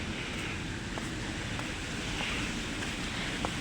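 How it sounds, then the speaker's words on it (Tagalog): A water fountain outside the Kempinski Hotel, a steady broadband rush of splashing water heard outdoors with some wind noise, no speech. "Yan yung fountain, guys. Water fountain."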